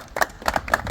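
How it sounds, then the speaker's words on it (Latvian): Short burst of clapping at an award ceremony for a street fishing competition in Jūrmala, a few hands applauding unevenly for about a second, fairly close. "Aplausi."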